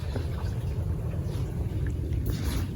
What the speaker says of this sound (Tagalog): Ito yung aming sinasakyang bangka.